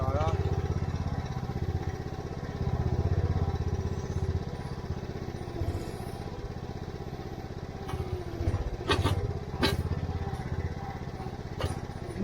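A Mygale 600 mini excavator's engine runs at about a third of full throttle, a steady mid-pitched chug with clattering bursts near the end, while people talk nearby.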